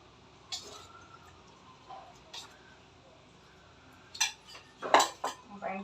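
Steel tiffin lunch box containers clink and clatter during packing of mint chutney and raita, with scattered metallic knocks that grow busier and louder toward the end.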